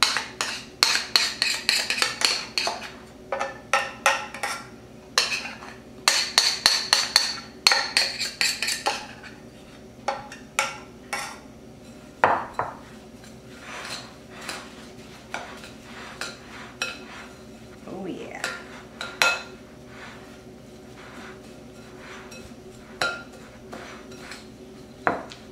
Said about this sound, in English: I'll get my caramels and mix them into the coconut.